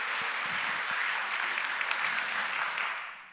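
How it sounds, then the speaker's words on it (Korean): A church congregation claps together in a Sunday worship service, a dense, even wash of applause that holds steady for several seconds, then fades out at the end. "하나님께 감사와 영광의 박수를 드리겠습니다"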